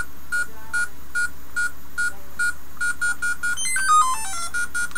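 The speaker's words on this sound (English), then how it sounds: "you can hear that beep" Short electronic beeps repeat in a steady rhythm, then a quick rising and falling run of bleeping tones, bright and close with no talking.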